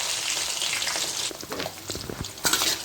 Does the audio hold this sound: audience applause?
no